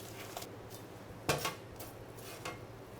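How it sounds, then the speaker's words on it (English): Golden roasted fish bones for a bouillabaisse are scooped into a pan, giving a few clattering knocks of bone and utensil against metal, one sharper clatter standing out amid soft kitchen background. "So our lovely golden fish bones, we're going to scoop those into the pan."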